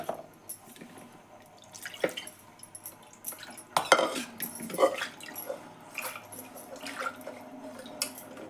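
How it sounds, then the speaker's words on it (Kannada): Water poured into a pot of mung bean gravy, splashing and trickling with a few clinks of a utensil against the pot, moderately close and without speech. "ನಾನು ಇನ್ನೊಂದು ಚೂರು ನೀರು ಹಾಕ್ತೀನಿ ಇದಕ್ಕೆ."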